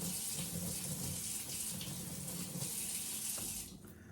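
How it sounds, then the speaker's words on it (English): A kitchen tap runs steadily as a knife is rinsed under it, a close, constant rush of water that continues unbroken before tapering slightly at the end. "rinse my knife off here"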